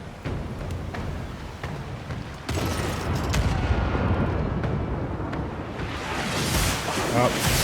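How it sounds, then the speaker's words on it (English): Port-side cannons fire from a ship in a naval combat video game about hunting pirates. A sharp boom comes at about two and a half seconds, then a sustained roar of blasts and rumble fills the rest. "Fire the port cannons."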